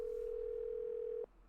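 A steady telephone dial tone in a Nancy Drew computer game, one continuous pure hum lasting over a second before cutting off abruptly, leaving faint background hiss.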